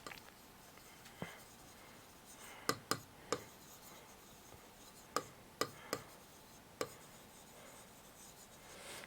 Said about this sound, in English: I would first write that for you.